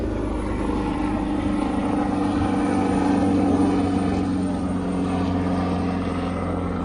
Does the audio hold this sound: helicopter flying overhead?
yes